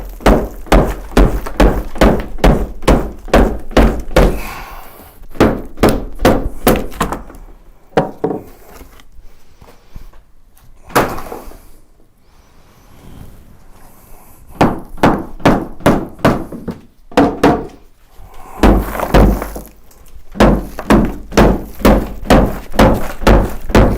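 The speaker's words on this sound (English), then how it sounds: "I'm trying to lift this, and the end of the hammer's crunching this completely" A hammer strikes and pries at rotten wooden floorboards during floor removal, giving loud, rapid bursts of close thuds and crunching cracks separated by short pauses and quieter scraping.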